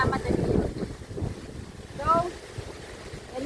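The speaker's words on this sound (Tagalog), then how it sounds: "Masyadong malakas ng hangin" Strong wind buffets the microphone outdoors near backyard chickens, in a low, continuous roar, with a faint voice briefly audible partway through.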